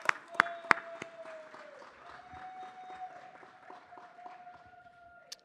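Scattered, fairly quiet applause at a city council meeting, a few sharp claps at the start settling into light, sparse clapping under a sustained tone in the room.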